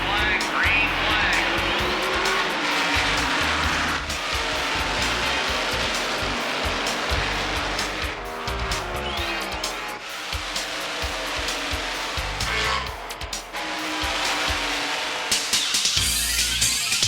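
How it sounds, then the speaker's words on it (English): NASCAR race cars roar off at the start of a race, loud engine drone rising and falling with tire squeal and skidding as the pack passes close, with a voice talking over the noise. "they get ready for the command to start your engines"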